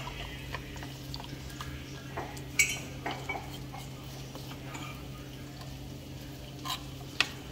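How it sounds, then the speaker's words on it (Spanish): Cornstarch being stirred into water in a kitchen, with a utensil clinking against a dish in scattered taps and scrapes over a steady low hum, fairly quiet and close. "vamos a disolver lo que es la maicena"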